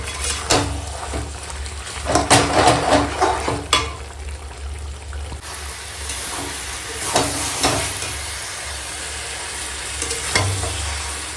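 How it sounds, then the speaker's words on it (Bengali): Goat mutton sautéed with yogurt in a pan and stirred: irregular scraping and clattering strokes, busiest early on, over a continuous close sizzle. "মাংসটা সুন্দর করে বেশ কষাচ্ছি খাসির মাংস কষাবো"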